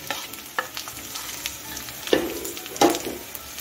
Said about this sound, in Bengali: সবকিছু ভালো করে মিশিয়ে নিচ্ছি।